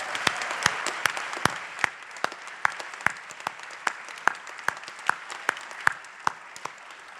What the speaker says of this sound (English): How about another round of applause for all of our winners this evening?